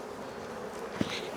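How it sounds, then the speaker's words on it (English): Faint, steady buzzing of honey bees close by, with a brief louder hum as one passes near. "So then there's all these bees"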